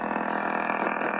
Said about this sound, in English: That's the VFO trying to sync.